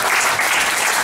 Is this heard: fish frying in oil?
no